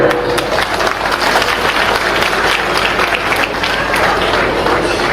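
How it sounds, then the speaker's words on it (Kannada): A crowd of devotees at a ceremony honouring a religious leader breaks into sustained applause, a dense, loud wash of many hands clapping steadily for the full length. "ಸಂತೋಷಪೂರ್ವಕವಾಗಿ ಒಂದು ಚಪ್ಪಾಳೆ ಹೊಡೆಯೋಣ"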